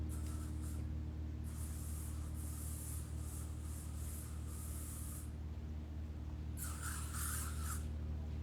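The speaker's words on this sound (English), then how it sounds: "I got to get some bug spray." Insect repellent sprayed from an aerosol can in a few bursts: a long hissing spray broken into short pulses, a pause, then another brief burst, heard alone over a steady low background hum.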